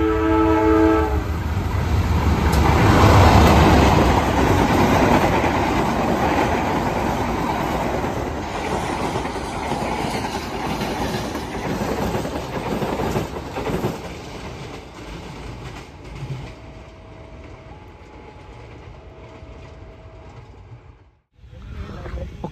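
The Kertanegara KA133 passenger train from Malang station rumbles past loudly with a horn sounding near the start, a steady roar of wheels that fades toward the end, then a brief drop before noise resumes.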